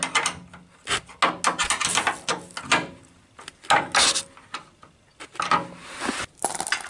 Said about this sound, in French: Et juste un petit coup de serrage à mes 6 boulons.